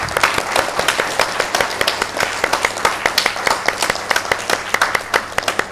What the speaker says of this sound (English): A huge round of applause for Malati Holla.